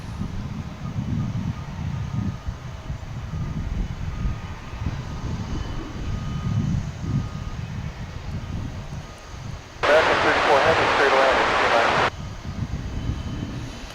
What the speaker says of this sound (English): This Airbus A220-100.